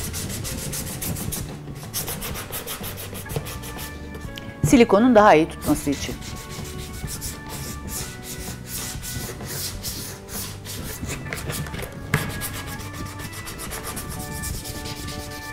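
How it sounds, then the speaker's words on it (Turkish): Repeated rhythmic scraping of sandpaper up close, sanding the varnish off the top of a paint can, continuing steadily while a person talks over it. "Zımpara ile üstünün cilasını biraz alalım."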